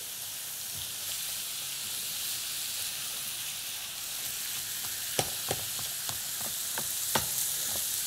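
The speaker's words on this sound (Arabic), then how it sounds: "قلنا نحلوا هذا اللحم المفروم مليح في البصل" Minced meat frying with onions sizzles in a steady hiss, while a spoon stirs through the pan and scrapes it in a string of sharp clicks during the second half.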